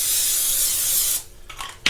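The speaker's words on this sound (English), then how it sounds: "Get your cooking spray." Cooking spray hisses in one steady, loud burst onto an open 7-inch waffle maker, then cuts off, followed by a few faint handling clicks.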